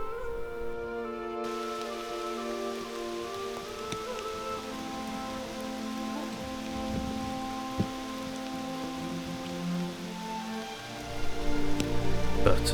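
Steady rain patters on surfaces, with a sustained tonal hum throughout and a louder burst of drops near the end.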